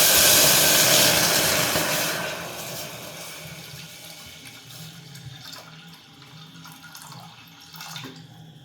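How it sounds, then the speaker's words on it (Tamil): Water from a tap pours steadily into a pressure cooker, a loud rushing splash that gradually softens and thins as the vessel fills, with no talking. "அதுக்கு வந்து குக்கரில் கொஞ்சம் தண்ணி ஊற்றிக்கலாம்"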